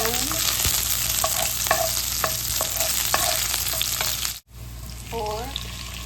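Onion frying in a pan sizzles continuously with repeated scraping stirs, close up, broken by a brief cut to silence before the sizzle resumes.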